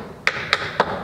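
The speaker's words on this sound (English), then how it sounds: "which is simply a shuffle step" Three crisp tap shoe strikes from a tap dance shuffle step, evenly spaced and close, ringing sharply against a quiet room with no talking.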